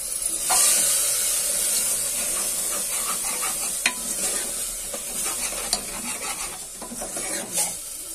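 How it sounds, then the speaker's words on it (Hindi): Tomatoes frying in a pan while cooking black lentil dal, a bright steady sizzle with scraping stirs and occasional knocks of a spoon, close and moderately loud, no one speaking. "अब मैं डालूंगी टमाटर तो टमाटर भी मैं दो तीन मिनट तक पका लूंगी"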